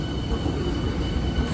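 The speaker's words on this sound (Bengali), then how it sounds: "Sealdah Barasat AC local." A Sealdah–Barasat AC local train on its first day rolls past with a loud, steady rumble of wheels on rails and a faint high squeal, heard close throughout.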